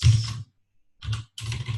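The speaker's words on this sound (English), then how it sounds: "So you guys like the noise of my new mechanical keyboard?" Rapid bursts of typing on a new mechanical keyboard, close and clattery, stopping briefly for a pause before resuming.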